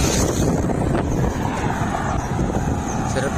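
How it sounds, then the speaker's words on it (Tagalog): Wind buffets the microphone with a constant low rumble and rushing noise outdoors among rice fields on a bicycle ride, steady and loud throughout. "Sarap ng sipoy ng hangin."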